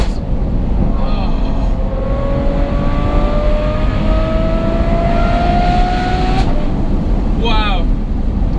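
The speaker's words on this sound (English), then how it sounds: "The exhaust tone on this thing, I've got to say, it must be closer to being in the receiving end of a fighter jet engine to the face." Novitec N-Largo Ferrari F12 Berlinetta exhaust blares in a sustained, climbing roar as the car accelerates hard, then briefly changes pitch near the end, loud and close amid heavy road and wind noise.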